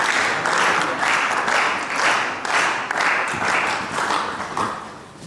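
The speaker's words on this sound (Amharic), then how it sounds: "አጨብጭቡላት።" Audience applause at a stage event, loud and close, swelling in repeated waves of dense clapping that rise and ebb several times before thinning out.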